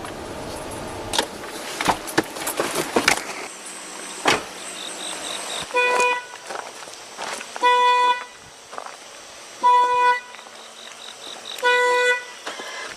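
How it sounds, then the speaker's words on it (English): Car alarm sounding at night, repeated electronic honking bursts in a steady on-off pattern, each lasting about a second, preceded by rustling, clicks and handling noise. "The alarms keep going off."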